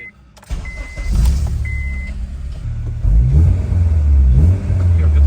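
A car engine with a 3-inch exhaust idles and then revs in deep, throaty bursts, a loud low exhaust rumble rising and falling close by.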